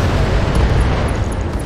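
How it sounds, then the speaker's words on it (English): Autocannon ammunition exploding on a mech in the BattleTech video game, a loud sustained rumbling blast that fills the whole moment with dense low booming. "There we go, AC ammo explosion."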